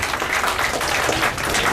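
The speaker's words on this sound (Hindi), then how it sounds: "चाहूंगा बहुत जोरदार ताली इन बच्चों के लिए।" Audience clapping for children at a school talent-round finale event in Tiara Vista, a dense, steady burst of many hands close by, lasting the whole moment with no talk over it.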